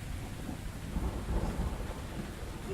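Steady rain with low rolling thunder in a stormy outdoor scene of The Invisible Hours video game, a continuous rumbling wash that swells briefly in the middle, with no voices.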